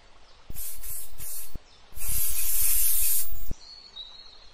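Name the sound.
bug spray being sprayed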